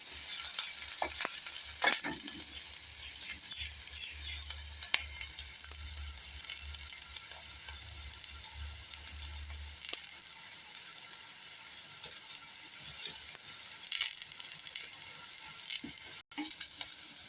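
Chana dal and peanuts sizzle and sauté in a pan with occasional stirring scrapes, a steady close frying hiss throughout and no talk.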